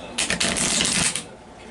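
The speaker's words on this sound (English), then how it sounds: "You tell them, shuffle it" A deck of playing cards being shuffled, a quick close riffle of rapid flutters lasting about a second, followed by a brief pause.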